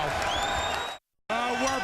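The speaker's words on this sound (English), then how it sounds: "Listen to this crowd." A boxing arena crowd roars and cheers loudly and continuously before the final round, broken by a brief gap of silence, with a commentator's voice mixed in.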